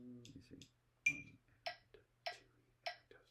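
A metronome ticks steadily, about two clicks per second, with sharp bright clicks standing out over a low hum; no voices.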